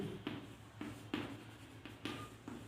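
Strokes of writing on a board during a physics lesson scrape out in a steady, regular rhythm, about six firm swishing marks with brief pauses between them, close and moderately quiet.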